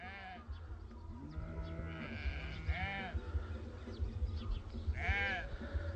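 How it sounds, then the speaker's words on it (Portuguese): Several sheep bleat repeatedly, some calls near and loud, others fainter, overlapping against a low outdoor background. "As ovelhas conhece o dono."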